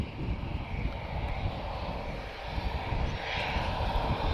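An airliner takes off from Lisbon Airport with a steady, broad engine roar that stays heavy and continuous throughout, the rumble swelling slightly toward the end as it climbs away.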